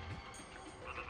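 A cartoonish frog croak from the Grandia role-playing video game, a short, low, throaty call over a dense, steady bed of game music and ambience.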